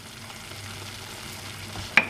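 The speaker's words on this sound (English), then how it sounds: "I'm going to stir them now." A seafood okra stew with Maggi cubes and crayfish is stirred in a pot, giving a soft, steady sizzle and gentle scraping, ending in one sharp clink of the spoon against the pot, quiet and close.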